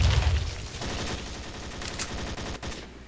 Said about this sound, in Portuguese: Atirando em mim ali.